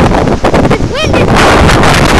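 Strong blizzard wind buffets the microphone in deep snow, a loud continuous roar with gusty swells throughout, while a man exclaims briefly over it.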